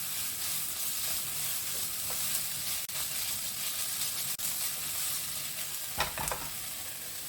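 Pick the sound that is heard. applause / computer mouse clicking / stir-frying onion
stir-frying onion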